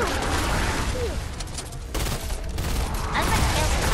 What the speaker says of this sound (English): Hey, he shot at me.